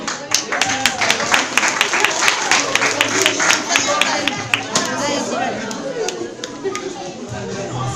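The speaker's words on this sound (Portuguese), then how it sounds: "Uma salva de palmas." An audience at a Christmas poetry reading in Lisbon applauds steadily for several seconds, dense overlapping claps with a few sharper close ones, and faint chatter mixed underneath.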